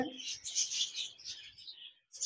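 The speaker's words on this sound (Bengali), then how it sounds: "এখানে দেখতে পাচ্ছেন 1 পিস কোকাটেল রয়েছে।" Shrill, scratchy cockatiel chirps close by, a continuous chattering burst followed by a brief pause and another call.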